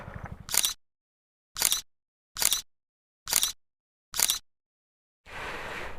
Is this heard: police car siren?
no